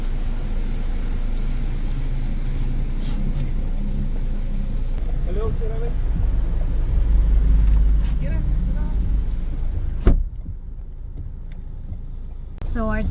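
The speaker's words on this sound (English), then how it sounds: "So our truck has finally arrived from Surigao." A truck rumbles in close by on a rainy day in the Philippines, a steady low engine drone with wind buffeting that swells midway, then cuts off with a thump near the end.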